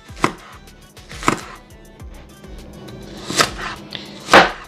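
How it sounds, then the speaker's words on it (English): A purple onion cut with a knife for Jamaican steamed cabbage, four sharp, evenly spaced chops on a board, close and clear with quiet pauses between. "Now I'm gonna cut the purple onion up."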